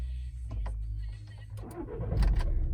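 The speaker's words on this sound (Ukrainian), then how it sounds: "Зараз заведемо автомобіль." A 2011 Volkswagen Touran 2.0 diesel engine cranks briefly and catches, settling into a low, steady idle with a slight rev.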